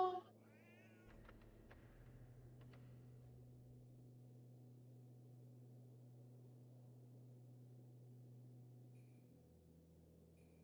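A kitten in the MindCop video game gives a few short, wavering meows early on, fairly faint over a steady low game hum that runs throughout.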